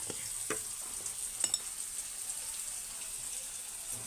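Salted cauliflower sizzles lightly in oil in a pan, a soft continuous crackle with a few sharper pops and the occasional clink of stirring.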